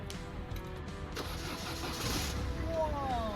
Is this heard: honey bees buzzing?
no